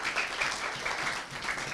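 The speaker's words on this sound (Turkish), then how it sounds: "Alkışlayın." Children applauding on a kids' play show, a steady, dense patter of many small hands clapping together, fairly loud and continuous without talk.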